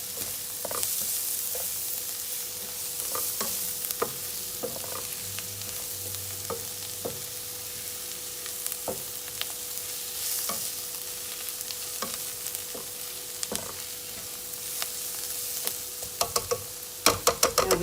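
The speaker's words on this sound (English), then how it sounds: "We need to leave the onions to cook for some more time." Onions fry in a pan for egg masala, a steady sizzle under repeated clinks and scrapes of a spoon stirring, with a quick flurry of taps at the end.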